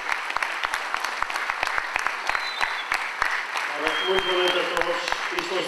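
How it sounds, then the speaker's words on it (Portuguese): An audience claps in a parish auditorium at an evening show in Padrão da Légua, applauding young firefighters; sharp, distinct claps build into fuller applause as voices murmur underneath. "estas salva de palmas é para estes homens"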